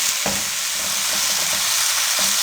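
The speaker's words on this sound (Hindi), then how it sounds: "अब इसको हम 1 से 2 मिनट के लिए अच्छे से फ्राई कर लेंगे।" Garlic and ginger paste fries in hot oil in a pan, a steady dense sizzle with faint stirring scrapes throughout, close and continuous with no talking.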